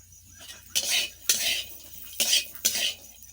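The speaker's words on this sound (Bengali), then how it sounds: "এখন আমি ভেজে নিচ্ছি এখানে কিশমিশ, একটা একটা করে ভাজবো" Raisins frying one by one in a home kitchen pan, with a few separate bursts of utensil scraping and clinking against the pan over a quiet background.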